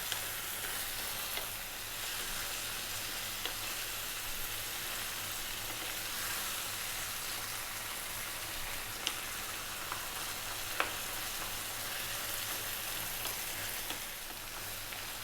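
Chopped vegetables and corn frying in a pan for ground beef chili, a steady soft sizzle and crackle with occasional faint clicks of stirring, no talking.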